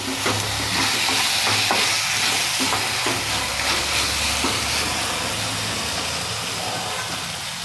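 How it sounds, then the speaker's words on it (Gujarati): Steady sizzling of soya chunk Manchurian sauce with vinegar in a hot pan, with scraping and stirring sounds throughout, a constant hiss filling the background. "હવે આ બધું મિક્સ કરી દેવાનું"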